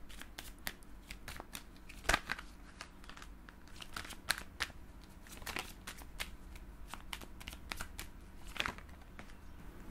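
Tarot cards being shuffled close to the microphone in a quiet room, a soft run of crisp riffling flicks and papery slides with occasional sharper snaps, steady and intimate with no talking.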